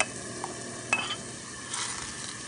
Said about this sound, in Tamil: இந்த பேஸ்ட்டை ஆட் பண்ணிடுறேன்.